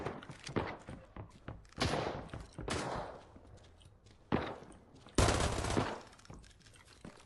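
Gunfire in the tactical shooter Arena Breakout, several sharp bursts and single shots at irregular intervals, some close and loud, others more distant, with footsteps and movement between them.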